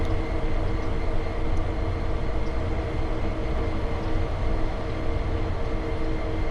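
A steady low rumble and hum from a train standing close by at Sand Patch Grade in Train Sim World 2, constant and even throughout with no voices.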